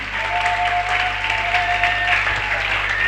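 A church congregation clapping and applauding for Jesus: a steady, dense wash of applause from a crowd lasting about three seconds, with a faint sustained tone running beneath it.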